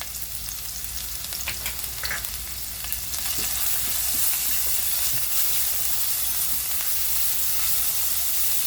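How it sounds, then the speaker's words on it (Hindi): Chopped onions with salt sizzle steadily in a spoonful of hot oil in a pan, a continuous bright frying hiss that swells louder after a few seconds, with faint stirring scrapes underneath and no talking. "अभी इसमें प्याज डालेंगे, प्याज के साथ नमक डालेंगे, प्याज को नरम करेंगे"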